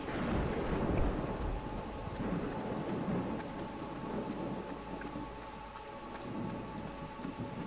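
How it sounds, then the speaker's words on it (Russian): Heavy rain pours steadily in the horror game Pineview Drive while thunder cracks and rolls, loud at first and then settling into a constant downpour heard alone. "Ой, как гром тут долбит."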